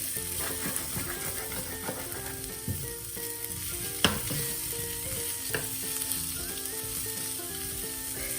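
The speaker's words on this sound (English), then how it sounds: "Without covering the pan, we have to keep taking out the scraps." Potatoes frying in an uncovered pan for potato and aubergine curry give a continuous close crackling sizzle, broken by occasional scraping clicks of stirring, with no voices.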